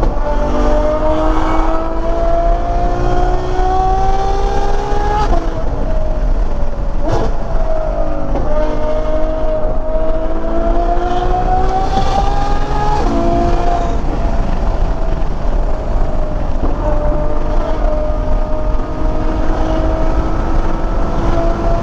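A Ducati Panigale V4R motorcycle and a Ferrari F12 rev loudly and continuously, with rising and falling engine pitch and quick gear shifts, close and sustained for the whole stretch.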